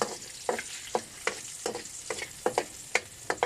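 Onions sizzling in a hot pan for a catch-and-cook meal by the mangroves, a steady frying hiss broken by regular sharp scraping knocks of a spatula against the pan, close and fairly loud, with no talking.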